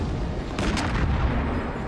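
Gunfire and small explosions from the action film Robocop: a dense, loud wash of blasts with a cluster of sharper bursts early on, then continuing rumbling noise.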